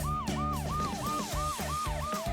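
A cartoon ambulance siren repeats a fast, up-and-down two-part wail about three times per second, loud and steady throughout with no voices.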